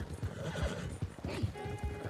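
A White Arabian horse ridden in a video game time trial, its hooves clip-clopping in a quick repeating rhythm, with whinny-like calls mixed into the steady beat of the gait.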